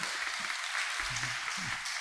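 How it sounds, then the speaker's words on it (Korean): Congregation applauding during a Sunday worship service at a Korean church, steady dense clapping filling the room with a faint voice or two underneath. "박수 한번 하시기 바랍니다."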